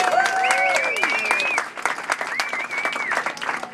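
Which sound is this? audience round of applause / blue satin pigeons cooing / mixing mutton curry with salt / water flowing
audience round of applause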